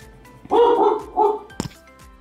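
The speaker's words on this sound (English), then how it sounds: "Sorry, my dog decided to bark." A dog barks twice close by in a room, two loud harmonic bursts a half second apart, followed by a short sharp yip.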